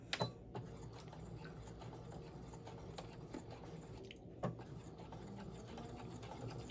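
A sewing machine stitches a quarter-inch side seam on a small fabric sack, running as a steady mechanical hum with a few sharp clicks and taps, alone and fairly quiet.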